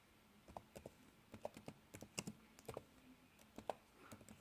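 Computer keyboard being typed on to enter a command, a quiet run of irregular soft key clicks heard close by with no voices.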